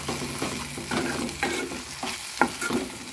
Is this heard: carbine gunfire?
no